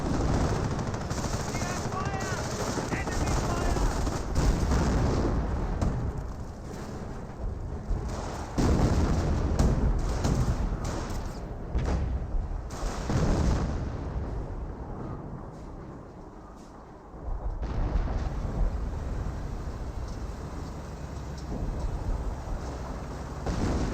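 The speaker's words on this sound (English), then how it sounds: "the officer artillery rains down pretty quickly" An officer's artillery barrage in Company of Heroes, a long, loud wash of explosions and machine-gun fire that pounds on continuously, dipping briefly before surging back, with a commentator's voice talking over it.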